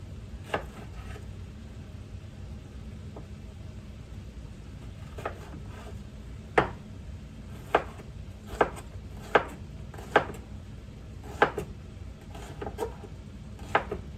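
Large kitchen knife chopping a pepper on a cutting board for a chicken stir-fry, a series of sharp, separate chops that start sparse and quiet, then come louder and more regular in the second half, close by with no talk.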